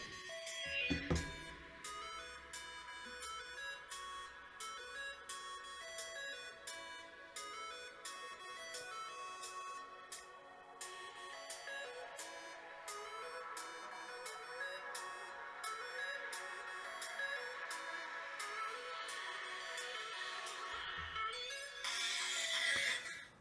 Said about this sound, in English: I'm gonna be playing the music and see how much of the music the microphone picks up